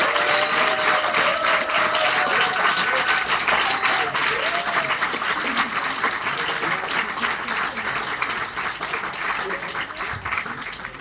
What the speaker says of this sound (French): faire un tonnerre d'applaudissements pour les élèves du cours Sauton